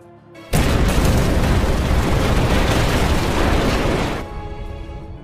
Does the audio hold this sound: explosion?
yes